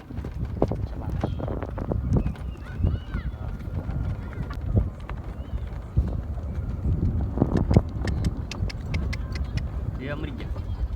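A mare's hooves clip-clop in a steady, brisk rhythm during a ride, close and clear, with people talking over the hoofbeats.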